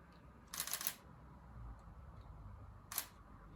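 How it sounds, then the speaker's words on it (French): Faint clicking button presses on a Sony ZV-E10 camera switching to photo mode, a quick cluster of clicks followed by a single click later, in a quiet room. "Vous appuyez pour aller dans mode photo. Le bouton est là, ici."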